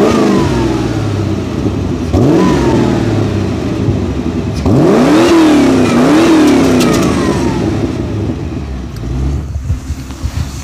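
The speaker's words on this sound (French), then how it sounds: "Tu peux nous faire des coups de gaz à l'arrêt?" A Toyota AE86 engine is revved while the car stands still, several throttle blips rising and falling in sweeping pitch, loud and close over a steady idle.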